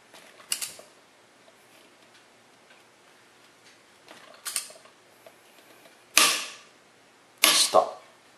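A torque wrench tightens a car wheel lug nut, with faint ratcheting ticks and then several sharp, loud metallic clicks in separate bursts, heard up close with no talk.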